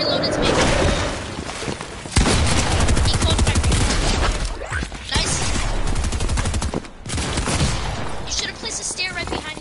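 Rapid bursts of video game gunfire crackle loudly in repeated volleys, broken by short pauses, while a person talks over the shooting.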